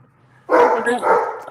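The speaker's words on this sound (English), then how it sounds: "That's my dog." A pet dog lets out a single loud, close bark that stretches into a second rough burst, following a brief quiet moment.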